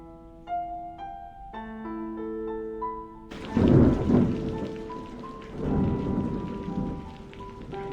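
Rain falling steadily with a deep rumble of thunder rolling in after a few seconds of soft piano notes, the storm swelling twice and staying loud and close without any voices.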